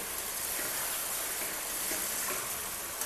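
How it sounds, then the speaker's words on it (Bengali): Oily bata fish curry masala with aubergine sizzles loudly in a pan as water goes in, a steady close-up hiss and crackle with no talking. "এখন আমরা জল দিয়ে দেবো।"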